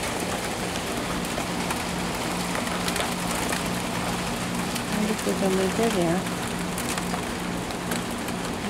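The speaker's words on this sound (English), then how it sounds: "You can hear the rain." Steady rain pours down outdoors at night while a thirsty raccoon lingers nearby, a dense even hiss filling the whole stretch as people talk quietly over it.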